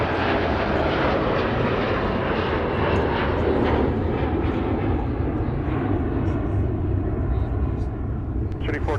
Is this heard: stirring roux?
no